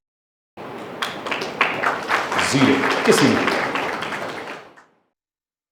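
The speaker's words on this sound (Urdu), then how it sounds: "تالیوں کے اندر جو پیٹرن نظر آیا ہے" Lecture audience applause that builds from scattered claps into a full round of clapping, then fades out, with a few words spoken over it.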